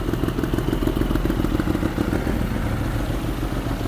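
An SRT 800 motorcycle with a Vmax racing exhaust and no silencer runs close by, its loud, rapid, rough pulsing continuous and slightly uneven throughout, with no voices.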